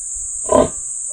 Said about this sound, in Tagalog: Buntis na rin itong isang baboy.